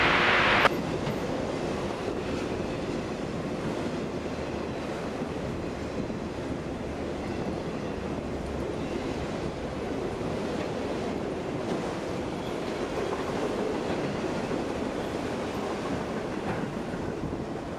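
A southbound Norfolk Southern freight train rolls past in Walton and Erlanger, Kentucky, with a steady, loud rumble and clatter of rail cars that holds constant throughout and has no talk.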